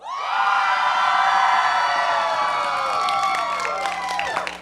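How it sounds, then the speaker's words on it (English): Wedding reception guests scream and cheer together at full volume, a loud sustained crowd roar of whoops and yells that holds steady for several seconds before tapering slightly at the end. "Let's scream as loud as you can."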